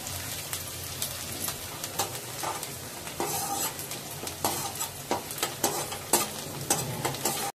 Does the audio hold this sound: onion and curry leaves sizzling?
yes